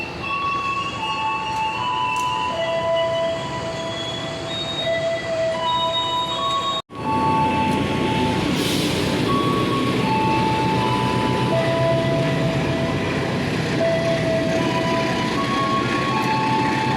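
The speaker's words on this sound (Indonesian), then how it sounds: "Kereta api Parsel baru sampai Cirebon jam segini." Parsel freight train at Cirebon station, rolling steadily past with continuous loud rumble and rail noise, tonal squeals and hums throughout, a brief dropout near the middle then the steady train noise resumes.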